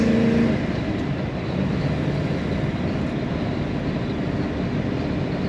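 A 1957 Ford Fairlane 500 Club Victoria engine idles smoothly with a steady, continuous low rumble at close range, no voices present.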